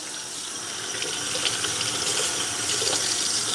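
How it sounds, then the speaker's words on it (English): A kitchen tap runs steadily as produce such as citrus and roots is rinsed under it, a continuous close hiss of water with faint splashing shifts, no voices over it. "we're gonna end up rinsing off some of these things so they're good"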